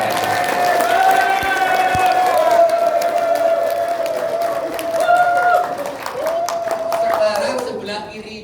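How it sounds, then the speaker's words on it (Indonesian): Seminar audience clapping hands again at a motivational talk by a speaker, a loud continuous crowd applause with a voice speaking over it and a sustained tone running through. "Boleh tepuk tangan sekali lagi?"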